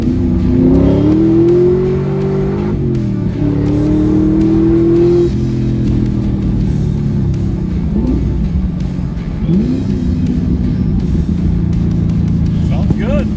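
A 2000 Ford Mustang Cobra R with Bassani side exhaust, still running catalytic converters and the stock mid pipe, revs and accelerates with a deep, loud, close exhaust rumble that rises in pitch through several pulls.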